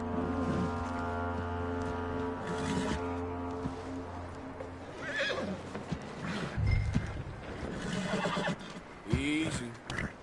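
A horse in the video game Red Dead Redemption 2 whinnies near the end, a short rising and falling neigh, after scattered hoof clops over a steady droning hum.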